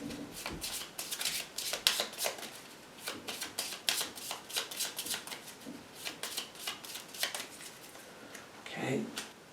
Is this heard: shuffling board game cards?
yes